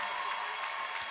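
Steady crowd applause in a gym at a girls' varsity high school basketball game, a sustained even clapping wash heard from a distance with no break.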